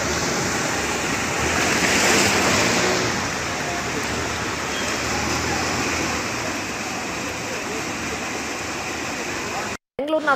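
Heavy rain and floodwater on Bengaluru roads produce a loud, continuous rushing roar of water mixed with passing traffic, swelling early and holding steady before cutting off abruptly near the end.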